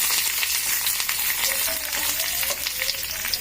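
Peanuts frying in a pan for a chutney, giving a steady close sizzle with scattered light crackles and pops that run evenly throughout, with no voices present.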